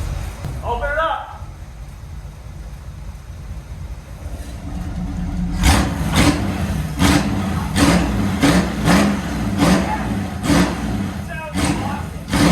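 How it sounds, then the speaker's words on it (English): A 1951 Chevrolet Styleline Deluxe rat rod fitted with a Granatelli exhaust idles with a low rumble, then revs in a series of loud, close bursts. Someone talks over the start. "He's gonna rev it up for me."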